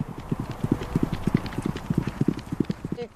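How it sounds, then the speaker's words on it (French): An Icelandic horse moves fast at a gallop or pace, its hooves clip-clopping in a quick, even rhythm of sharp, close impacts that hold steady to the end. "Au galop ou à l'amble, ces chevaux sont capables d'aller très très vite."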